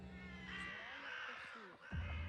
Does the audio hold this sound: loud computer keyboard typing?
no